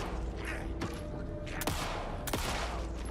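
Gunfire in the video game Alan Wake 2: several sharp shots crack out over a dense, steady game soundscape, with two especially loud reports standing out partway through.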